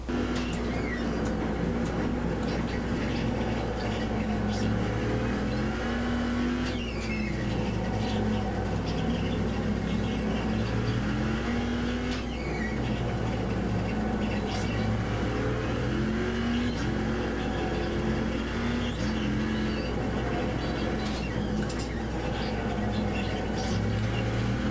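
Race car engines in a racing video game, a steady continuous drone of engine tones that rise and fall with shifting pitch, loud and constant throughout with no speech.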